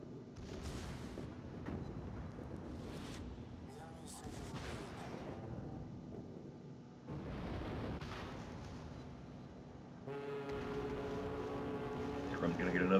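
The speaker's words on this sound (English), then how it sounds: "I think that's a pretty good salvo from Grump" Heavy battleship gun salvos from a Montana-class warship in World of Warships, loud booming blasts with rumbling tails that recur over the stretch, mixed with game sound effects and people talking over them.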